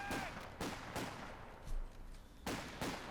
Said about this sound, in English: Grenadiers just taking a couple of rounds from the Tommies before falling back.